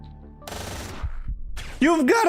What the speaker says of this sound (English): How does that turret have sight to shoot me?